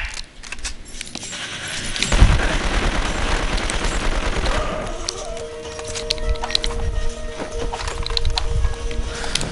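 AK rifle fire in the video game 24 The Game, loud bursts of rapid shots with clattering mechanical noise over several seconds.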